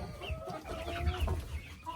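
Hens clucking inside a backyard coop, a steady low murmur of several birds close by with soft overlapping calls and no talking.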